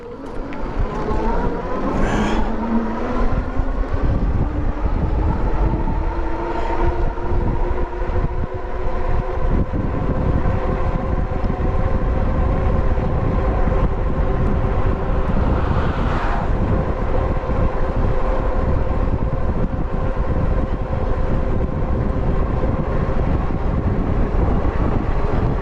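Steady, heavy wind roar buffeting the microphone during a winter ride on a JASION X-Hunter folding ebike, constant and loud throughout, with faint motor whine beneath.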